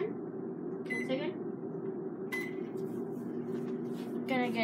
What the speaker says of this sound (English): Put it in the microwave for